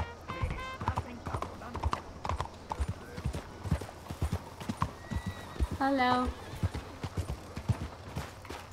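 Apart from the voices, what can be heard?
horse hooves clip-clop while riding, from video game Red Dead Redemption 2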